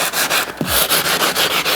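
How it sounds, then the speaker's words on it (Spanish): Sandpaper rubbed by hand over a painted stone kitchen countertop, a loud, close, rhythmic scratching with repeated back-and-forth strokes roughly every fifth of a second. "la parte más brillante de la piedra, pasamos la lija"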